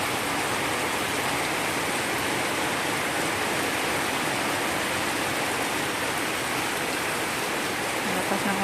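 Heavy rain pours steadily over rice paddy dikes, a dense, loud and continuous hiss with no break, close by and alone with no talking.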